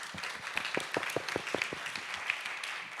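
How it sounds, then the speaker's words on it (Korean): An audience claps in applause, a patter of many hands sounding fairly faint and distant and tapering slightly toward the end. "박수 한번 좀 쳐주시면 좋겠습니다"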